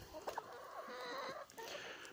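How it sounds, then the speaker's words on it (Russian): A large hen clucking nearby in a farmyard coop, with a few short soft calls and a low murmuring cluck over quiet background. "тут самая крупная курица"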